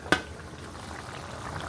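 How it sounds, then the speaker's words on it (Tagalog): Vegetables for pocherong dalag boil in a pot with a steady, close bubbling and gurgling, opened by a single brief click. "Pakuluan lang po natin."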